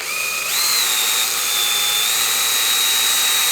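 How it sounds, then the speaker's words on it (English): A power drill fitted with a flap disc grinds on an XS400 cafe racer motorcycle part, its motor whine climbing in pitch early on and then holding a loud, steady high-pitched grinding drone. "using something like a flap disc on your drill"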